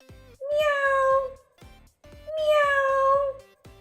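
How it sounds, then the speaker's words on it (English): A cat gives two clear, drawn-out meows, close and loud, each rising then falling, with a short gap between them. "cat,"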